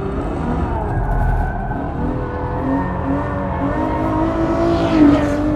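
Ferrari F12 accelerating hard in fourth gear on a race track, a loud close engine note climbing and shifting in pitch, with a brief tire squeal near the end.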